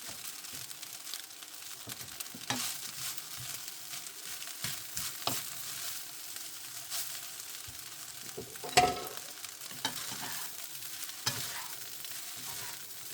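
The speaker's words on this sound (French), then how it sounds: "Je touille bien." Steady sizzling of rice frying in a pan with intermittent scraping and stirring strokes, no voices.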